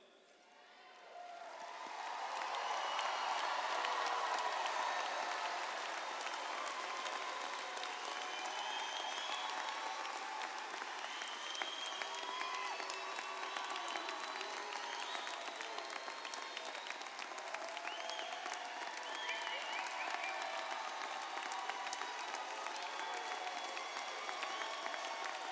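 An audience applauds the Washington High School graduating class of 2021 with sustained, dense clapping that swells in over the first few seconds and then holds steady and full for the rest, with some scattered cheering mixed in.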